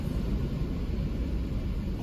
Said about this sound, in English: We going through the car wash.